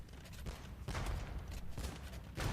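Hand cannoneers and bombard cannons fire in an Age of Empires match, heard as several scattered gunpowder blasts and volleys at a moderate distance, with no voices.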